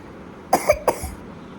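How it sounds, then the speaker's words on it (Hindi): A child coughs three times in quick succession, close and fairly loud, then falls quiet. "खांसी हो रही है, पता नहीं क्यों खांस रही है।"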